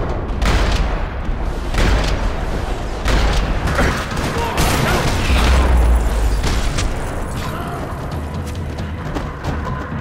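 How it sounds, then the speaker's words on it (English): Gunfire rattles through a parking lot in Max Payne 3, with dense bursts of shots and booming impacts, loud and continuous throughout. "Another parking lot rattling with gunfire."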